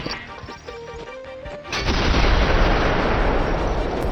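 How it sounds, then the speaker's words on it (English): A proximity mine goes off in Fortnite as a vehicle passes: quieter game sounds give way to a sudden loud, close blast whose rumbling noise fills the remaining seconds. "Self-activating bombs."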